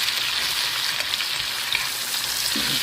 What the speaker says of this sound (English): I stirred all the onions all around. Then let it cook a little longer.